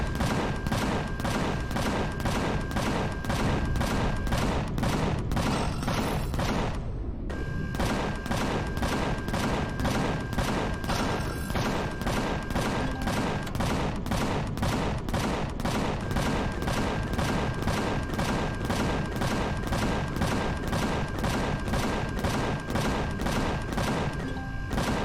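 Sustained, dense gunfire from an Empyrion firefight, rapid automatic bursts rattling almost without pause for the whole stretch, loud and close, with a brief lull midway before the shooting resumes.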